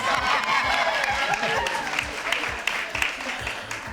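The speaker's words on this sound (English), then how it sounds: "I earn those applause." Audience applause at a dinner event in Seattle, a dense wash of clapping over a low steady background, with voices murmuring underneath throughout.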